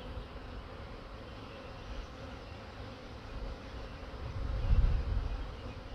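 Honey bees buzzing around an open hive during a beekeeping inspection, a soft continuous droning hum that swells louder near the end as bees pass close.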